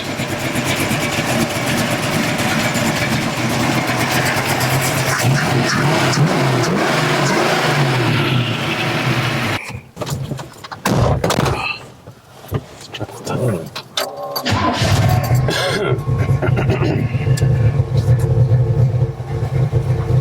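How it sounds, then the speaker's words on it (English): A rough, rumbling 350 small-block V8 hot rod engine idles loudly and steadily, dropping out briefly midway before the deep lumpy idle returns; voices murmur faintly in the background. "pretty mean little 350 small block for it"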